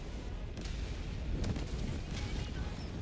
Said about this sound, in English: you might die to my barrage